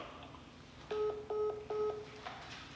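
Three short electronic telephone tones at the end of a phone call, each a steady beep about half a second long with brief gaps, followed by quieter tones fading out, with no talking.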